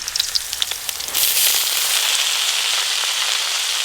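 Kalmi greens dropped into hot mustard oil with dried red chilli and onion burst into a loud, steady sizzle, a few light crackles first and then a continuous close hiss.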